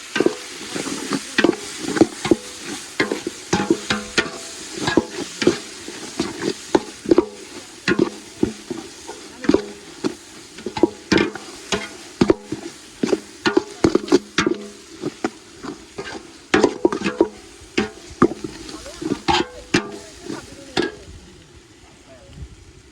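A spoon repeatedly scrapes and stirs frying masala of chilli, coriander powder and salt in a pan for chicken curry, with irregular knocks and clatters over a low, steady sizzle.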